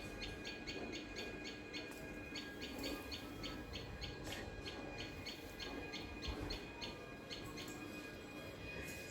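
A small bird sings near a gooseberry tree at dawn, with quick, evenly spaced high chirps repeating steadily throughout over a soft, constant outdoor background hum.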